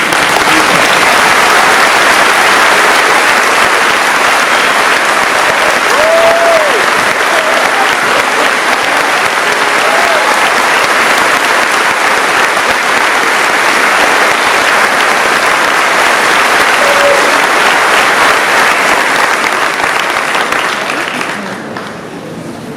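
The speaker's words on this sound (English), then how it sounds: "give you the round of applause that you deserve" Loud, sustained applause from a large crowd at a high school graduation ceremony, steady throughout before tapering off at the end.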